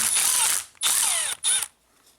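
A power tool spinning nuts off an army truck alternator, three loud close whirring bursts with ratcheting pitch sweeps separated by short pauses, no talking.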